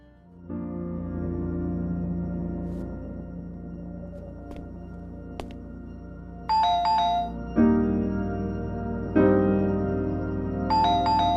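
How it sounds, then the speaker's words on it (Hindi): A phone ringtone signals an incoming call, a bright repeating electronic melody ringing alone in a quiet room over a steady low hum, with short chiming bursts recurring every few seconds and growing louder. "बॉस का फोन आ रहा है"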